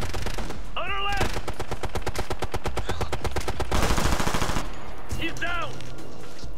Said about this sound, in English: MG, watch the MG! I got incoming fire!